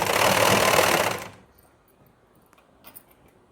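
An electric sewing machine stitches a blouse in a steady, loud whirring run for just over a second, then stops, leaving quiet room tone with a few faint clicks and taps.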